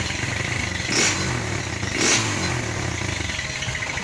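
A Viar motorcycle engine runs steadily near the listener, with a gritty, rattly idle broken by two quick throttle blips that rise and fall about a second apart.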